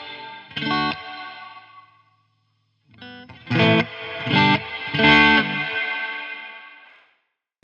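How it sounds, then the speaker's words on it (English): Distorted electric guitar run through a JST Toneforge Disruptor djent amp sim with reverb switched on: several loud chugged chords with gaps between them, each ringing out into a long reverb tail that fades to silence. "Then we've got reverb."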